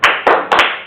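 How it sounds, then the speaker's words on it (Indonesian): A class of students clapping together in a rhythmic chant-clap: three sharp, loud claps in quick, even succession, close by with no voices. "Kalau belum semangat kita bilang tepuk semangat."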